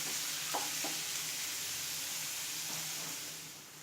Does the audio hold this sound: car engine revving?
no